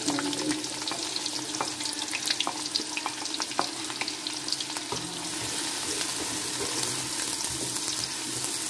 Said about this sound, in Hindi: देखिए ज़ीरा हो गया अब हम प्याज ऐड कर दें इसमें